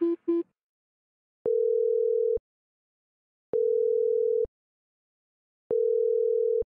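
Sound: telephone dial tone before voicemail

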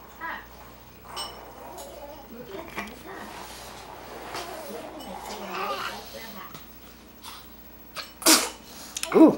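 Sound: sneeze

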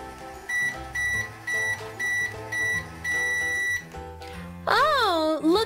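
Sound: toy microwave beeping

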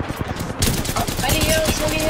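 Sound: gunfire in a video game

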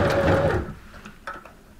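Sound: sewing machine sewing zigzag stitches

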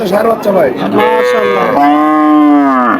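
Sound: cow mooing at cattle market

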